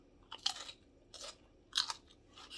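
Close, quiet chewing of a crunchy rainforest pepper: several sharp crunchy bites in uneven bursts separated by brief pauses, with no talking.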